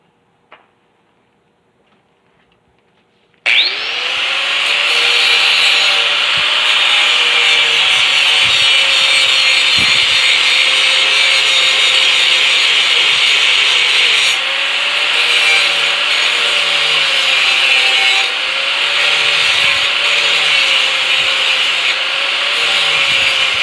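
A wooden sculpture's nail form is worked to a sharpened point, giving a loud, steady, continuous rasping and rubbing that starts abruptly after a short quiet and carries on alone with slight rhythmic swells.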